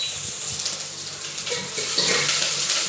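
Water is poured from a jug into a cooking pot of vegetable curry seasoned with chillies and asafoetida, giving a steady close splashing gush with faint sizzling beneath.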